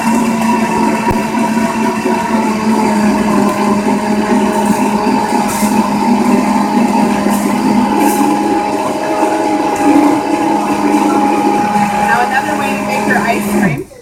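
A blender on its ice cream setting runs steadily at full speed, a loud, constant motor whine with a grinding churn, before cutting off abruptly at the end.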